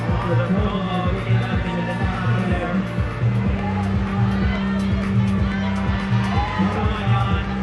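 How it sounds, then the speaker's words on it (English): A crowd at a bouldering World Cup semi-final in Vail cheers a climber on, a steady roar with rhythmic clapping and shouts, heard beneath a commentator's voice. "Crowd getting right behind her."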